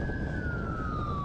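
An emergency vehicle's siren in Honolulu traffic holds one loud, steady wailing tone that slowly slides lower, over a constant rumble of road noise.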